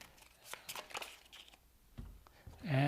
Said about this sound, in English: Then we're going to shuffle each pile. Just do a minor shuffle here.